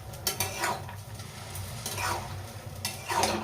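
A pan of ridge gourd with an onion tempering gives a soft, steady sizzle. Repeated scraping strokes of a spatula stir the mix at close range, with no talking.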